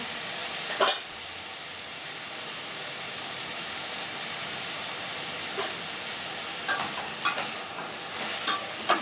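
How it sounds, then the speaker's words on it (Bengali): Vegetables being stir-fried in a pan with salt, turmeric and a little sugar, giving a steady soft sizzle and scraping throughout, with a few sharper clinks of a utensil against the pan near the start and toward the end. "নুন, হলুদ আর একটু মিষ্টি দিতে হয়, দিয়ে ভাজা ভাজা করতে হয়"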